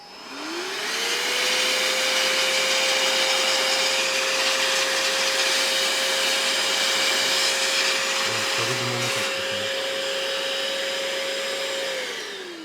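A Mioji AD72 cordless air blower, rated 46,000 RPM, blowing dust, spins up to a loud, steady whine with a rushing hiss of air, then winds down near the end.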